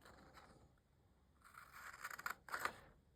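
Scissors snip across score lines on patterned craft paper while a treat box is cut out, with a few crisp, close cuts and scraping strokes in the second half after a quiet start.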